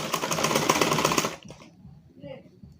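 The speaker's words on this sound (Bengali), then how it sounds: "এভাবে আমরা পুরোটা সেলাই করে নেব" A sewing machine stitches fabric for a dinner-collar kameez, its needle buzzing in a loud, even run for about a second and a half before stopping, followed by a quieter stretch of faint handling noise and voices.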